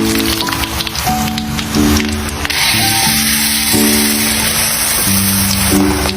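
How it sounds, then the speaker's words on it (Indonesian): Crispy spinach fritters frying in oil over medium heat give a steady, close sizzle that runs without a break, with a tonal musical backing underneath. "Setelah semuanya siap, lanjut goreng deh."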